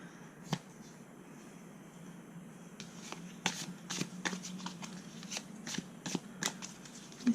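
Tarot cards being shuffled by hand, a steady soft riffling and rustling with sharp snaps and slaps of the deck scattered throughout, close and fairly quiet against a faint low hum.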